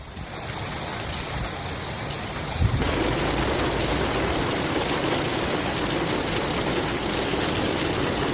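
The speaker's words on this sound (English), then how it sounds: "heavy rain poured over Camprodon" Heavy storm rain pours over Camprodon in Spain, a dense steady roar that surges louder after a brief knock near the three-second mark and then holds at full intensity with no voices.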